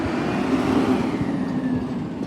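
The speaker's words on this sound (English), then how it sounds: "It's picking out those garbage cans." Garbage truck collecting garbage cans on a residential street, its engine droning steadily and loudly close by with a low rumble and faint mechanical clanks, no talk.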